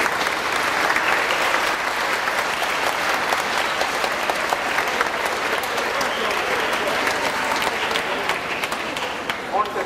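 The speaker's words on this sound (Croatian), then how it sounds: "ustanimo, jednim pljeskom zahvalimo prijatelju." A congregation in a church at a confirmation service in Kaštel Lukšić gives sustained applause, a dense, even wash of many hands clapping that carries on steadily for the whole stretch.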